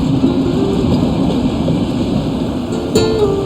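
A train rumbles with a steady low mechanical roar and rolling noise, fairly loud and continuous, with a brief sharp clank near the end and no talk.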